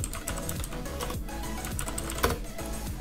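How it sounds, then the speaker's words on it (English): Computer keyboard typing a command to lock a Xiaomi phone's bootloader: quick, close keystrokes in an uneven rhythm with one louder key press near the end, heard alone without talking. "Then we just need to type fastboot OEM lock."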